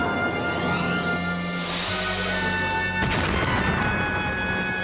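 A loud explosive blast with a sweeping roar and crackling debris, rising around the middle and hitting a sharp crash near the end, with dense rumbling throughout.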